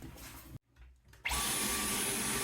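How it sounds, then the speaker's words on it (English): A vacuum cleaner drones steadily close by as it cleans out a crack before repair, cutting out briefly for about half a second, then returning at full, even strength. "It is always a good idea to use vacuum cleaning."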